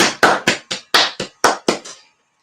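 Hand clapping, about nine sharp, close claps in quick succession that slow and fade slightly toward the end, with no talk.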